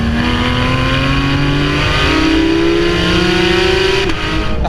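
A Porsche 911 GT3's naturally aspirated 4-litre flat-six revving hard toward 9,000 rpm on track, its loud rising wail climbing through gears with a brief dip at a shift, close and dominant.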